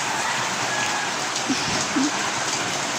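A steady downpour of typhoon rain roars continuously, hammering close by, with a couple of faint soft knocks beneath the wash.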